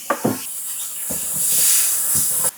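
Ground turkey sizzling in a hot pan, a steady bright hiss that swells after a few soft clinks and taps of the meat going in, then cuts off abruptly near the end.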